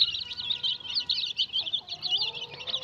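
Young chickens being raised on a farm cluck and chirp steadily and close by, with busy overlapping calls and no talking.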